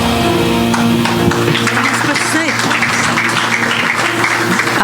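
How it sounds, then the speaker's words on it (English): At an Australia Day community ceremony honouring high school graduates, the crowd applauds a student called to the stage with loud, dense clapping over background music and voices. "round of applause for Lily"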